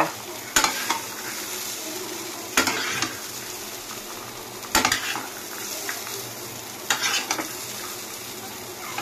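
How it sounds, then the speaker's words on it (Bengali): Chickpeas and potatoes frying together with capsicum in a pan sizzle steadily, and a spoon scrapes and stirs them in sharp bursts about every two seconds. Nobody speaks. "ছোলা আলু ভাজা একসঙ্গে ক্যাপসিকাম দিয়ে"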